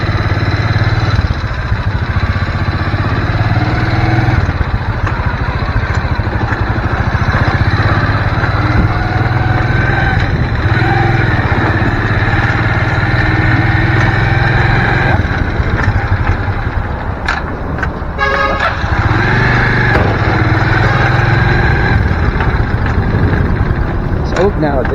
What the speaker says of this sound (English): we're going with the motorbike now